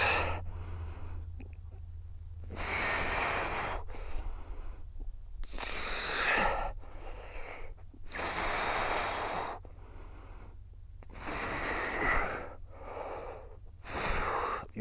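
Slow, deep breaths during a prone decompression exercise, each long airy inhale and exhale alternating with short pauses, close and steady across the whole stretch.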